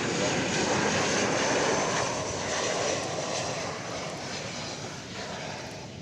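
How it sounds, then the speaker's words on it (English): A jet airliner takes off from runway 18 left at DFW Airport, its engines a loud, continuous broadband roar that eases slightly as the aircraft moves away. "Right heading 190, clear for takeoff 18 left"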